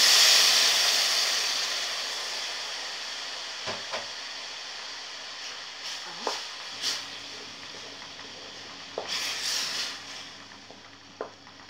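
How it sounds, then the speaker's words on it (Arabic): Crushed tomatoes hit a frying Egyptian mahshi stuffing mix, releasing a loud hiss that tails off into steady low sizzling, with a few faint clinks scattered through. "هنزل عليه بالطماطم المعصورة"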